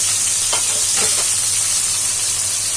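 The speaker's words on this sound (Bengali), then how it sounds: "পেঁয়াজ ভাজা ভাজা হয়ে আসলো, এর উপর 5-6টা কাঁচামরিচ দিয়ে দিলাম" Sliced onions frying in oil with five or six green chilies added, making a loud, continuous close sizzle with a couple of brief stirring scrapes.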